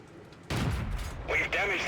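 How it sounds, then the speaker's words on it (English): Tank cannon shots in World of Tanks: a sudden loud, heavy boom about halfway through, followed by a sustained rumbling blast with a second, sharper report near the end. "I take one shot into the T44, 2 shots, he pulls back."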